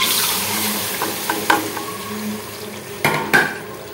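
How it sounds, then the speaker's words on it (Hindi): Onion paste frying in oil in a pan for a fish masala, a steady close sizzle with a spoon scraping and stirring through it, a few sharper clinks standing out, no talking. "चमचा चलाते जाएंगे, इसे लाइट सा पिंक जो है फ्राई कर लेंगे"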